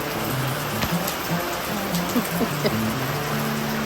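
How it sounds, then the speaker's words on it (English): Steady pouring rain hissing down outdoors on a sailboat, a constant wash of noise with a low hum and occasional soft thuds underneath. "it's actually raining. This would look like rain would never come. So now it's pouring."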